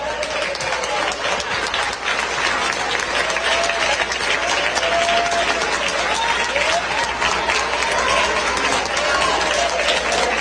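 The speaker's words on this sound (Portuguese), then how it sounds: "louvar a Deus com as palmas para Jesus" A church congregation claps together in sustained, dense applause while a pastor keeps speaking loudly over the noise.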